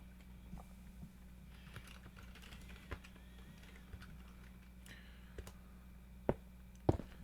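Computer keyboard typing while entering Minecraft code commands: sparse, faint keystrokes in a quiet room, ending with a couple of sharper, louder key clicks.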